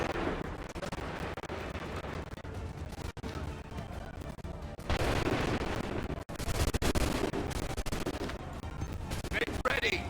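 Musket volleys crack and roar in Assassin's Creed 3, a dense, loud barrage of overlapping shots and booms that swells midway, with voices mixed in beneath.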